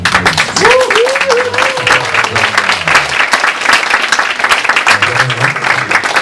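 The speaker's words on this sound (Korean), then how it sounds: "큰 박수 다시 한번" Audience at a Korean theatre awards ceremony applauding, a dense, loud burst of sustained clapping filling the hall, with a voice briefly speaking over it near the start.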